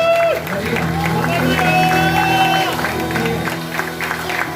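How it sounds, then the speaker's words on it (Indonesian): Congregation applauding at an Indonesian church anniversary service, a steady wash of clapping and cheering filling the room, with voices and shouts mixed through it. "Boleh tepuk tangan semuanya"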